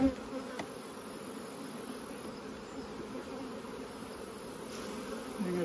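Honey bees buzzing steadily around an open, strong hive during a mid-season split, a dense continuous hum close by with no talking.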